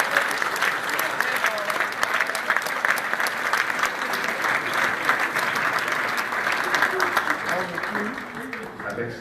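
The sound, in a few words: audience applause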